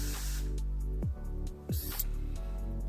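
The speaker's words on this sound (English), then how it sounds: "This is a smoothing spray that you can use before" Two short hissing bursts from a bottle of hair smoothing spray, the first longer and the second brief, close by in an otherwise quiet room.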